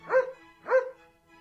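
A dog gives two short, clear barks about half a second apart, close and isolated against silence, used as a sound effect in a fable recording.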